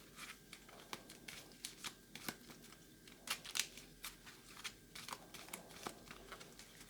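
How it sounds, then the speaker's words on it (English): A deck of print-and-play solitaire game cards, the parachute event deck for Airborne In My Pocket, is shuffled by hand in quick irregular riffling bursts, quiet and close with no talk. "We shuffle the parachute event deck."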